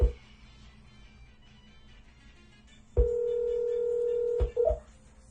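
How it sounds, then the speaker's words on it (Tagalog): A telephone dialing a call: a faint hum, then a sharp tone that holds steady for about a second and a half before a short, clipped final beep, with no talking. "tawagan natin si Boss Delta."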